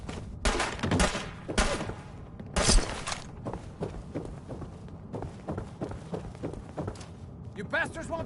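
Gunfire in Fallout 4, with sharp shots and heavy thuds cracking in irregular bursts, the loudest early, then quicker and fainter pops, with footsteps and talk in between.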